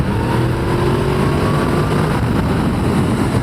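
A Yamaha MT10 motorcycle on a test ride sends out a loud, steady engine drone that climbs a little in pitch as it accelerates, with wind noise over it and no talking.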